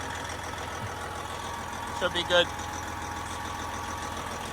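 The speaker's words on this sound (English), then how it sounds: "Wait for this engine to warm up a little bit" An owner-operator's truck engine idles steadily while warming up, a low, even rumble running throughout, with someone briefly speaking partway through.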